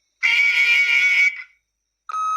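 A single electronic answering machine beep inside The Wolf Among Us, a bright steady tone lasting about a second that fades out, then a brief second tone begins after a pause.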